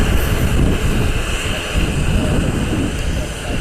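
A Boeing 737 Max 8 airliner taxis out at an airport after pushback, a loud continuous engine roar with a steady whine, heard from nearby with wind buffeting the microphone.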